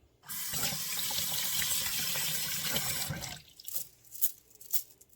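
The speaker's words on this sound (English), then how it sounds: "Rinse it well." Tap water runs steadily and loudly while an apple is rinsed under the faucet, a broad splashing rush for about three seconds, then stopping abruptly with a few scattered drips and handling sounds afterward.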